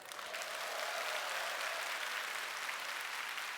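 A church audience at a Korean missionary's talk breaks into sustained applause, an even, unbroken patter of many hands from beginning to end.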